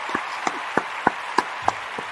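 A small audience claps sparsely, with a handful of separate hand claps spaced about a third of a second apart over a steady background hum.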